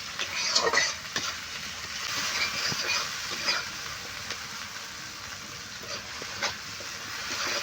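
Spice masala for rui fish curry frying in a pan, a steady close sizzle with occasional light stirring scrapes, no talking.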